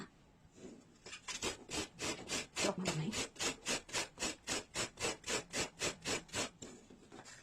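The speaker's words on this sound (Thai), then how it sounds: "อุปกรณ์ในการขูดก็คือที่ขูดชีสขูด ผักผลไม้ต่างๆนะคะ" A cheese grater shreds coconut in a steady run of rasping strokes, about twenty rhythmic scrapes close up, loud and even with no talking.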